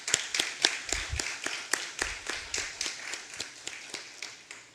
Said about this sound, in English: Let's have a round of applause for their hard work.